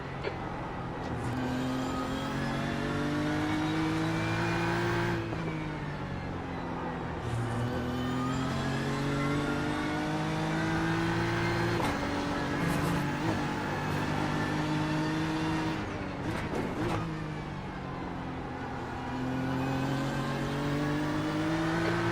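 Race car engines in the iRacing simulator at Oran Park during a GT endurance race, a continuous loud engine drone that rises in pitch and drops back repeatedly with gear shifts, and no voices.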